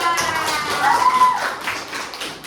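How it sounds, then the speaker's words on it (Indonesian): Students in a classroom clap for a presenting group, a loose patter of hand claps at moderate distance with brief faint voice-like tones mixed in. "kita beri tepuk tangan untuk kelompok 2"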